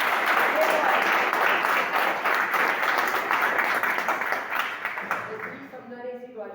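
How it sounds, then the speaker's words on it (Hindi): At a motivational gathering, an audience claps loudly with dense, sustained applause that gradually fades toward the end, where a voice starts to speak. "पीछे ही खड़े एक बार ना जितनी जोर से तालियां बजा सकते हो बजा दीजिए"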